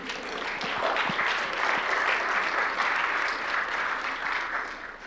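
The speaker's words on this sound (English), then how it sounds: "You can applause, yeah." Lecture audience applause, a sustained round of clapping from a seated crowd that swells after the first second, stays even and full, then eases slightly at the close.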